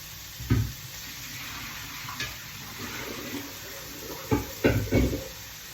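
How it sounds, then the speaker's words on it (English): Water drains as cooked rice noodles are strained in a kitchen, a steady wet wash with a few louder splashes and knocks near the end. "I'm going to strain the rice noodles."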